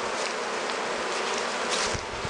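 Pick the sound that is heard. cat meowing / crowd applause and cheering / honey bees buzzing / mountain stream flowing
honey bees buzzing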